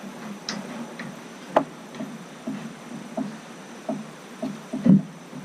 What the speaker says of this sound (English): And then just rotate the flywheel.